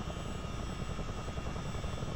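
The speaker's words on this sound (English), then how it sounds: "APU is now up and running" Auxiliary power unit of a CH-47 Chinook helicopter running, a steady, dense mechanical roar with a constant hum and no breaks, heard fairly faint and without voices.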